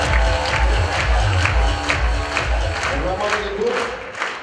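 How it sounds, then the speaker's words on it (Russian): An audience at a KVN junior league final in Ufa applauds the teams on stage. Busy crowd clapping and cheering comes in rhythmic surges, with a voice speaking over it. "Вам бурные аплодисменты"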